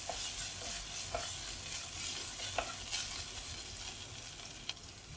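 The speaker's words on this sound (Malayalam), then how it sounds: "അതും കൂടെ ഒന്ന് നന്നായിട്ട് വഴറ്റാം." Ginger, garlic and green chillies sautéing in a pan, a steady close sizzle with the scrape and clack of stirring now and then.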